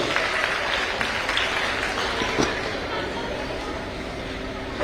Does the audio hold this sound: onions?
no